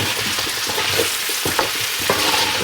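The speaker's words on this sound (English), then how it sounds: "we're just going to keep stirring around. Get these potatoes nice and fried up" Potatoes fry and get stirred in a pot, giving a steady loud sizzle with scraping and knocking stir strokes scattered through it.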